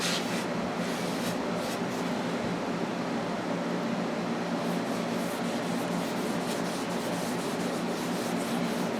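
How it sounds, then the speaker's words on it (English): A cloth rubs wood finish onto the end grain of a doorknob coat rack board, making a continuous close, even scrubbing swish that holds steady throughout with no pauses or speech. "Just rub a pretty good coat on there."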